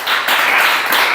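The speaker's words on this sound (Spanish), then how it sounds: "Vamos a dar un aplauso al Señor." A church congregation applauding during a Spanish-language Bible study service, a short burst of many hands clapping together, loud and close, with a brief dip partway through.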